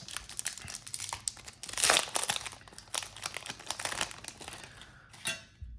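Pokemon card packs being torn open and unwrapped, with close, continuous crinkling of foil wrappers and sharp tearing bursts, and no talking.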